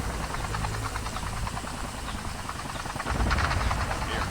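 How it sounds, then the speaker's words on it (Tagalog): Steady, loud rotor and engine roar from a helicopter in the Call of Duty video game fills the whole moment, swelling a little louder toward the end, with no talk. "Helicopter ba yun? Helicopter!"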